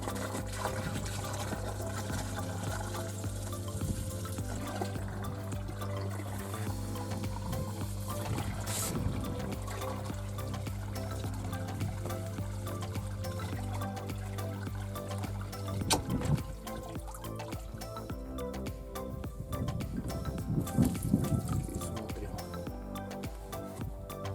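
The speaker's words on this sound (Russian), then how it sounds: "Набираем воду в полные сапоги." Water from a pump hose pours steadily into rubber boots, making a continuous trickling and filling sound that shifts slightly as the boots fill.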